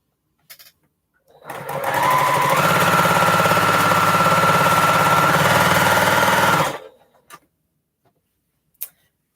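A Juki sewing machine runs in one steady, fast, loud burst of about five seconds, with a rapid mechanical whir and vibration, preceded and followed by a few faint clicks.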